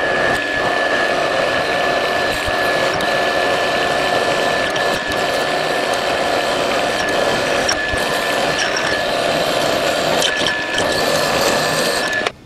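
A Bernardo P 600 G lathe drilling a row of holes in metal gives a continuous mechanical whirr with a steady whine and faint ticking, gear-like rattles, steady and close with no talking.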